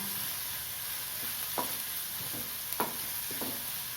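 Onion and crushed garlic sautéing in a pan, giving a continuous hiss of frying broken by a few short scrapes of stirring, close and moderately quiet, with no talking.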